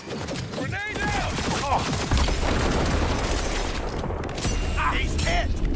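A video game grenade goes off among bursts of gunfire and shouted voices, a thumping boom swallowed by sustained loud battle noise and radio-style chatter.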